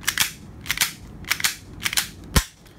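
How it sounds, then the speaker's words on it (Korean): A TP45 airsoft pistol's slide is racked again and again, giving five sharp, close mechanical clacks at a steady pace. The last clack is heavier, and no one speaks. "이 슬라이드의 장전 느낌"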